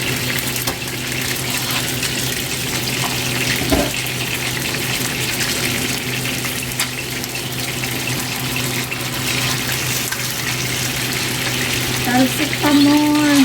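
Food fries in spattering hot oil during Filipino home cooking, a loud, continuous close sizzle with sharp pops and crackles breaking through now and then.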